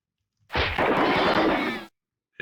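AK-47 fire in the video game Pathways Into Darkness, a single loud burst of rapid shots lasting under two seconds, with silence before and after.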